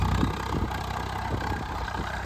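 A Swaraj 855 4x4 tractor engine, 54 hp class, runs at a steady idle with a low, even diesel chug throughout. It sounds fairly close and moderately loud, with no talking.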